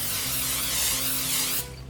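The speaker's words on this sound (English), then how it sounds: "spray it with a little cooking spray" A steady, close hiss of cooking spray held for about a second and a half into an 11 by 7 baking dish, then cut off, over faint background music.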